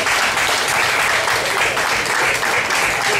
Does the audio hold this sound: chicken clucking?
no